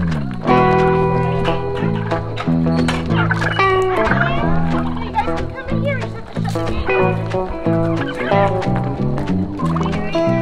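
Turkeys on a Tennessee farm gobble loudly and nearly without pause, rapid rattling calls overlapping close by for about ten seconds, with no talk over them.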